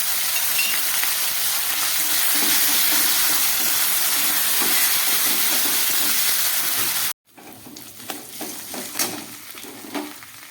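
Ginger paste fries with paneer and cabbage in a pan, a loud continuous sizzle and hiss that cuts off abruptly, then returns as quieter frying with spoon stirring and scraping.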